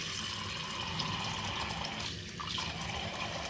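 Tap water runs steadily from a faucet into a sink while a face is wetted before shaving with a Karve Overlander safety razor, a continuous close splashing hiss throughout.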